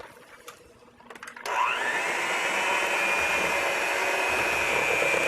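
Banana bread ingredients, including salt, are mixed with a motorized appliance that starts after a few soft clinks and settles into a steady whirring drone, close and alone.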